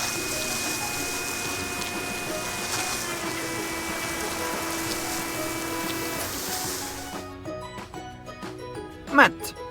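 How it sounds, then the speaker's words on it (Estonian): Cartoon car wash rinse at a tractor-themed car wash, a steady gushing spray of water pouring over a car for several seconds, then cutting off to a few scattered drips and a brief splash, over background music with no talk. "Olgu, loputame need mullid maha."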